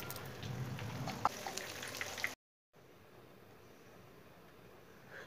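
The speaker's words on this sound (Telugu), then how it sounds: "ఈ విధంగా ప్రిపేర్ చేసుకున్నటువంటి వడలన్నిటిని ఒక్కొక్కటిగా వేడివేడి నూనెలో వేసుకోవాలి" Semiya vadas made from vermicelli fry in hot oil with a dense, crackling sizzle, which drops out briefly and then carries on more quietly and evenly.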